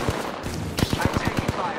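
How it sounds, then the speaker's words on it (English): Gunfire in the shooter Apex Legends: a rapid string of about eight sharp shots from around 0.8 s, mid-distance, over constant game ambience and noise. "Under fire! Bogey here!"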